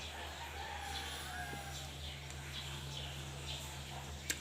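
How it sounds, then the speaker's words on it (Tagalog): Chickens clucking and crowing faintly in the distance over a steady low hum, with a brief sharp knock near the end. "Hinahinay siya pakaon sa mga manok."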